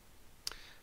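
A single soft mouse click, heard close and sharp against near silence.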